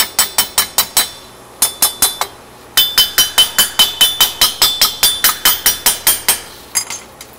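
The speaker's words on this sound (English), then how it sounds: "Get my hammer." A hammer taps a metal part into a welding jig with sharp, ringing metallic strikes in quick bursts of three to four, then a longer run of steady rapid blows, close and loud.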